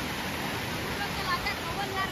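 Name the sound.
flooded Vashishti river water and waves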